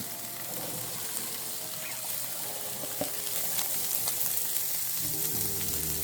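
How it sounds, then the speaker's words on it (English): Peppers and onions fry in a pan with a steady close sizzle, a soft stir or two and faint clicks, and no talking. "in that same pan, we're going to go in with some peppers and onions"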